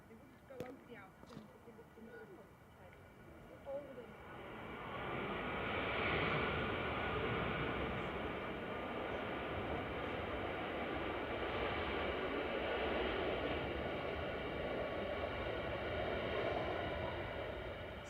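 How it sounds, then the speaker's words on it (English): A Ryanair airliner arriving from Cologne at Manchester Airport swells in from a distant hiss into a broad, steady engine roar that holds to the end, with a voice talking briefly before it builds. "In the background, you can hear Ryanair 1592 coming in from Cologne."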